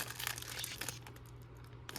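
Foil wrapper of an old 1994 basketball card pack being ripped open, a close crinkling tear over the first second, then quieter rustles and a small sharp crackle at the end.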